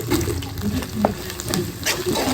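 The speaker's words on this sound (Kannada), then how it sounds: "ಒಂದು ಟೇಬಲ್ ಸ್ಪೂನ್ ಚೆನ್ನಾಗಿ ಫ್ರೈ ಮಾಡಬೇಕು" Spice powders such as chilli and coriander frying in a pan for egg curry, a steady close sizzle with soft stirring scrapes throughout, fairly loud and without talk.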